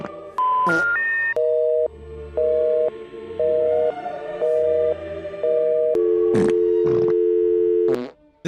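A telephone line gives a run of stepped tones, then a repeating busy signal of evenly spaced beeps and a long held tone, clear and close, broken by a few short bursts of noise.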